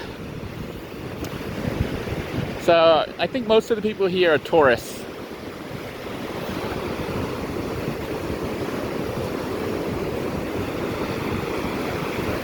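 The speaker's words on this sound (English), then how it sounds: "Just let you guys hear the ocean wave here." Steady surf rush of ocean waves near Cocoa Beach Pier, Florida, fills the whole stretch, with someone talking briefly over it early on.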